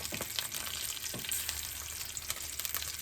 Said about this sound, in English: we are going to add the papaya in here, the grated papaya, because you don't have to fry too much.